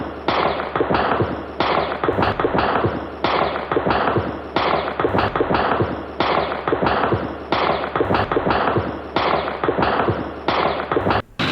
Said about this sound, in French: les premiers coups de feu retentissent à Cotonou